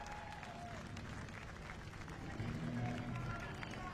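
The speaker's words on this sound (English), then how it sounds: "let's have a big round of applause for Wilson Martins Jr., your race winner." Steady crowd applause with cheering for a race winner over a busy outdoor background, swelling slightly louder toward the end.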